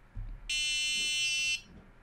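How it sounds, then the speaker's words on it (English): A small electronic buzzer sounds one steady, shrill tone lasting about a second, clear against a quiet room. "you can hear the buzzer go off"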